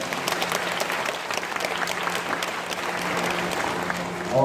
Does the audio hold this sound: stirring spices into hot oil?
no